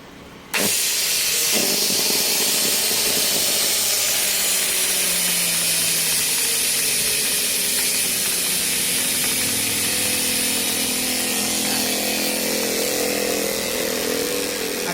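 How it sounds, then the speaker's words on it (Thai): A motor with a shorted armature, sparking at the commutator as it spins, gives off a loud continuous whirring hiss with crackling, steady from start to finish after a sudden onset. "มีอาการไฟแลบที่ตรง หัวคอมเนี่ยนะครับตรงทุ่นเนี่ยนะครับ"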